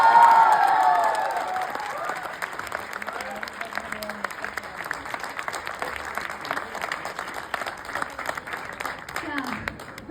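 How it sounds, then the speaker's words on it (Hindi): An audience at a live poetry gathering applauds to welcome poet Manu Vaishali, a loud swell of clapping and a few cheers that fades to lighter, steady clapping lasting about ten seconds. "जोरदार तालियों से इस्तकबाल कीजिए मनु वैशाली"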